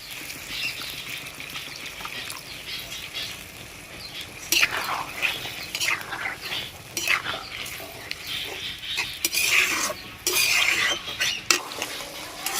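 A spoon stirs paneer curry with bottle gourd and peas in a pan after water goes in, scraping and clinking repeatedly over a low bubbling sizzle, close and steady, with some faint background sound.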